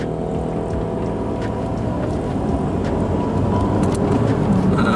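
Engine of a 2014 VW Tiguan 1.4 TSI with automatic transmission, heard from inside the cabin as the throttle is pressed, a steady low rumble that slowly swells in loudness with no talk over it.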